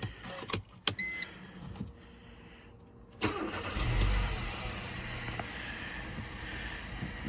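A used car bought for about £1000, sat idle for a month, cranks with clicks and a starter whirr, catches, then settles into a steady low idle, heard close and without talk.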